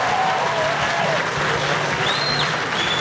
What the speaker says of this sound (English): So you give yourselves a round of applause, actually